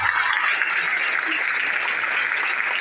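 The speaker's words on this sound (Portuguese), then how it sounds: "Bem forte as suas palmas." Congregation applauding at an evangelical church service during a wedding celebration, a steady wash of clapping that stays loud and even throughout with no pauses.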